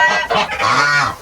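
A farm goose honks loudly and close inside a straw-bedded barn, giving a quick series of harsh nasal calls with short gaps between them.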